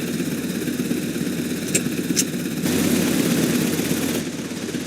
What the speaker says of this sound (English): The power is on. The engine has started.